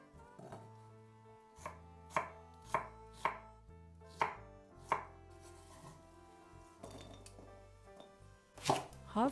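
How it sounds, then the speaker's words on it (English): A knife chops fruit such as pear, apple and mango into pieces on a cutting board, a series of distinct woody thunks in an uneven rhythm, close and clear with no talking. "Cut all fruits and vegetables into pieces."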